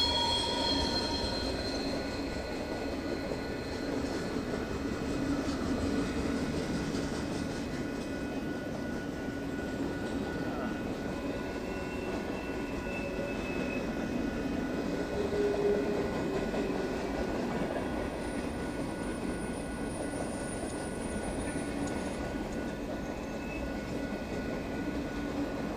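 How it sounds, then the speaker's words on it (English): A long, heavy freight train rolls past near Lake Shasta, California, in a steady loud rumble of wheels on rail with occasional high squeals from the wheels, continuous and close throughout. "I don't want to watch that whole train go by."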